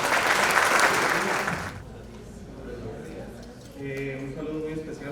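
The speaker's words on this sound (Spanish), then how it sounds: "Un aplauso muy fuerte, por favor," A burst of audience applause for a speaker at the ALACAURP 2019 communication conference, loud dense clapping that cuts off after under two seconds, followed by a quieter stretch and then a voice speaking.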